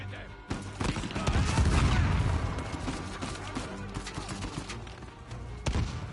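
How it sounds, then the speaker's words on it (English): Gunfire in the Uncharted 4 game, with a loud burst of rapid shots and booming impacts early on, then sparser shots and a final sharp crack against rumbling background noise. "Why am I shooting at him?"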